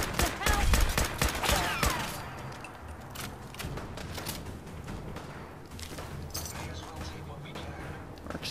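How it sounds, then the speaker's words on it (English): Marksman rifle fire in the video game Fallout 4, a cluster of sharp, loud shots in the first two seconds followed by continuing thuds and game noise, with a person talking over it. "Marksman rifle."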